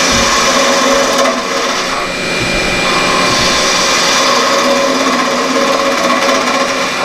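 A wood lathe spins a spindle for a tool handle while a spindle gouge cuts a bead, making a loud continuous whirring hum with a rough cutting texture, no speech.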